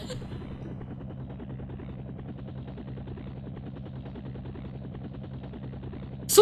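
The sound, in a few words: helicopter flying in video game SimCopter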